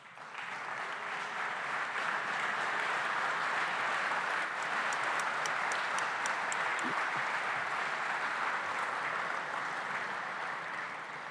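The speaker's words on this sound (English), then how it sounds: "would you help me give them a round of applause?" Sustained applause from a banquet audience honoring Boys and Girls Club board members, broad steady clapping lasting several seconds, with a few scattered shouts and a slow fade at the end.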